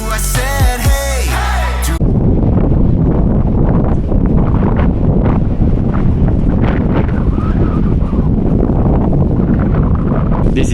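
Wind gusting across a mountain summit, roaring and buffeting the microphone loudly and continuously after a short burst of singing voices at the start.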